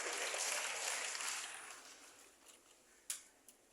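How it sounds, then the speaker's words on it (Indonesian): Applause from an audience at a youth forum in Indonesia, a soft, steady patter of clapping that gradually fades, ending with a few isolated claps. "Tepuk tangan buat Pak Alu Dohong."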